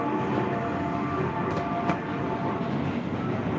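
A train rumbles steadily past, with a loud, continuous roar of rail noise and faint rattling throughout.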